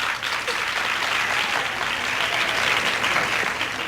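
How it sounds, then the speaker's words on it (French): An audience applauds a contestant at a competition, dense, even clapping from a sizeable crowd that fills the whole stretch without pause. "On applaudit notre concurrente numéro 8, Sheila."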